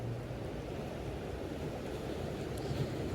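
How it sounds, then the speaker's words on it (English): Steady, low rumbling surf of ocean waves washing in, continuous and fairly quiet, with a soft wind-like hiss over it. "as you hear the waves in this video"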